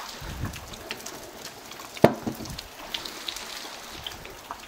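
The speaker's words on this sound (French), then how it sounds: "on entend le bruit de la pluie là" Rain falls steadily outside, a soft continuous patter with a few sharper drops and one brief thump, fairly quiet and without talk.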